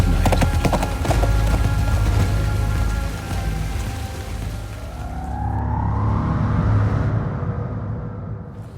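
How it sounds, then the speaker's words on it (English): A horse galloping at night, rapid rhythmic hoofbeats pounding close and loud, with a rising whoosh midway and rain-like noise underneath. "he kicked the horse into a gallop and away into the darkness of night."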